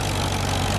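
Engine of a 1959 John Deere 730 diesel tractor at an antique plowing event, a short, loud, steady low rumble with an even pulse and no talking.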